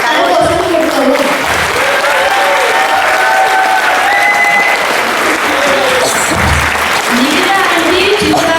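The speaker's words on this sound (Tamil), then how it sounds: "அதனால் அவங்களுக்கு கொஞ்சம் கரகோஷம் கொடுக்கவும்" Applause from an audience at a Hindu temple cultural performance, steady and loud throughout with a crowd's dense patter of clapping, swelling slightly near the end.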